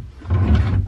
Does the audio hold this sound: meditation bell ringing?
no